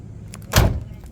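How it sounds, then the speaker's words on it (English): Door of a 1972 Oldsmobile Cutlass Supreme convertible swung shut, one solid close thud at mid-clip with faint mechanical clicks before and after, nearby and fairly loud, no talking. "listen how nice that door closes."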